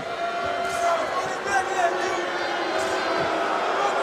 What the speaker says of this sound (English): You hear the disquiet from our Mohegan Sun crowd